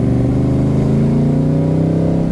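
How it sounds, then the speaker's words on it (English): A Backdraft Cobra sports car engine revs in a deep, steady exhaust note, rising slightly in pitch as it accelerates, loud and close. "That exhaust note is unbelievable."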